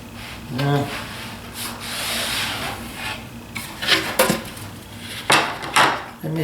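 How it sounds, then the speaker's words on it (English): A block sander rubs across the wood of a crosscut sled in a few short scraping passes, each a moderate rasp, with someone talking over them. "block sander and just give this a couple of passes right in through here."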